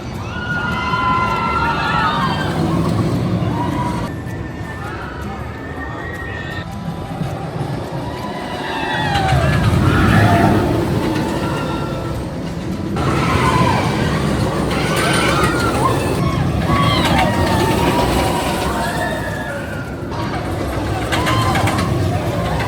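Twisted Timbers, an RMC wooden roller coaster at Kings Dominion, roaring along its track in a loud sustained rumble, with riders screaming and cheering in swelling bursts throughout the ride.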